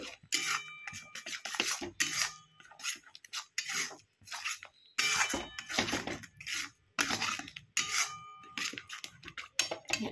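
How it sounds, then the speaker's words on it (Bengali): Cabbage pakora mixture with black pepper and other spices stirred and fried in a pan, heard as bursts of scraping and clattering separated by short quiet gaps, close up. "এবার এটা ভালো করে একটু কষিয়ে নিই।"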